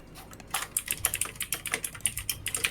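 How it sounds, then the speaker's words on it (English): Fast typing on a computer keyboard, a steady run of sharp clacking keystrokes at close range, loud and alone with no voices. "Jeez, are you typing on a typewriter?"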